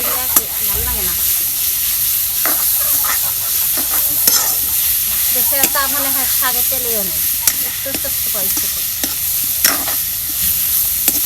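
Dhekeria saag greens frying in a pan hiss and sizzle loudly and steadily while a spatula stirs and scrapes, with faint bird calls in the background.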